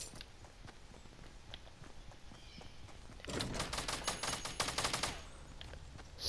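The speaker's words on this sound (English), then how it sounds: "Someone's shooting." Rapid bursts of gunfire from other players in a Fortnite Battle Royale match, starting partway through as a dense volley of sharp, repeated shots at moderate distance, after quieter footsteps and ambient game noise.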